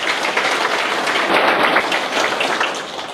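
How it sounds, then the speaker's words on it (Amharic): Congregation at a church ordination service for a pastor applauding steadily, a dense even wash of many hands clapping throughout with no talk. "ደስ ካላችሁ አጨብጭቡ።"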